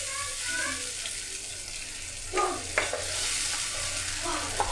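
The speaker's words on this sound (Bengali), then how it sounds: "মশলার যে পেস্টটা তৈরি করেছিলাম সেটা এই তেলের মধ্যে দিয়ে দিলাম, দিয়ে আমি চামচ দিয়ে এভাবে মিশিয়ে নিচ্ছি।" A spice paste is stirred with a spoon in hot oil, sizzling and hissing steadily with a few soft spoon scrapes and taps against the pan.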